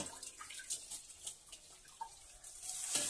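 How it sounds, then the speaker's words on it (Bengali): Water poured from a teacup into two cups of sugar for syrup, a faint, soft splashing trickle with small drips and gurgles, steady and close, with no talking. "এই কাপেরই পরিমাপ করে আমি জল দিয়ে দেবো।"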